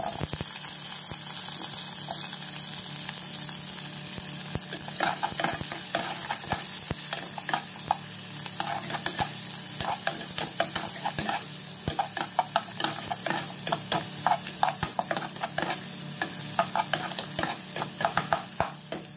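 Onions sautéing in a pan for beef adobo, heard as a loud, steady sizzle with constant stirring and scraping. Sharper spoon taps come more often toward the end, close up and with no talking.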